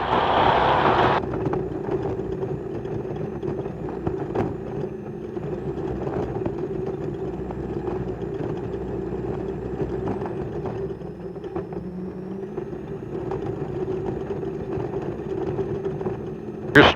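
A truck engine drones steadily while driving on the road between Vegas and Reno, a continuous low rumble with constant road noise and no clear breaks.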